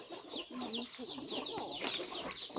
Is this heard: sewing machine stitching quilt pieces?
no